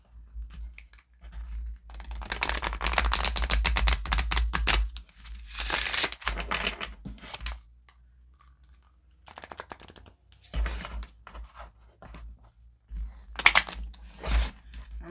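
Quick bursts of crisp riffling and clacking as cards are shuffled, several separate rounds with pauses between, close and fairly loud.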